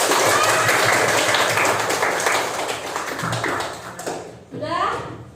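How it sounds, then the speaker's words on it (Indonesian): Students in a classroom clap for their classmates, a dense patter of hands mixed with voices, and then the clapping thins out into talk. "Oke, beri aplaus dulu buat teman kalian."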